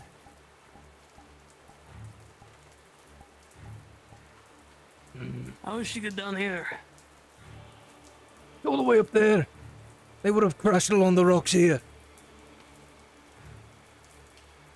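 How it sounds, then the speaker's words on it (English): Rain falls steadily in the video game VRChat, a faint continuous patter running throughout while people talk over it in several bursts. "It's raining."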